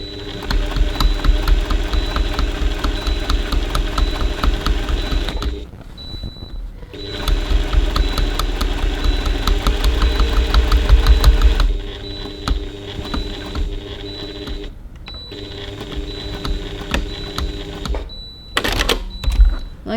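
A sewing machine stitches around the window of a fabric handbag in fast, steady mechanical bursts, running about five seconds at a time with brief pauses in between, close and clear with no talking.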